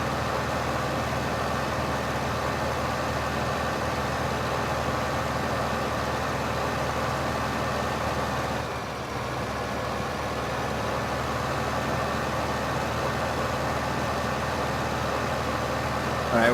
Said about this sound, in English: I'm driving the tractor.